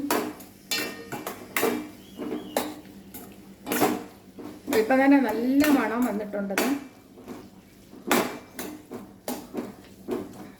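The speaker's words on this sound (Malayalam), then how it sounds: "എന്നിട്ടത് നമുക്കൊന്ന് ഇളക്കി കൊടുക്കാം" Carrot pickle being stirred in a pan over a low flame, with a utensil scraping and clinking against the metal in repeated short strokes, close by, alongside intermittent talking.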